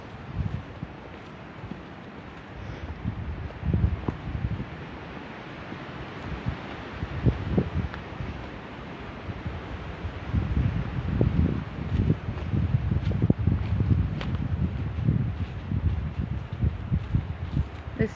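Wind gusting along an ancient track lined with trees and hazel coppice, a steady outdoor rush that swells and fades in irregular gusts, with buffeting close to the microphone and no voices.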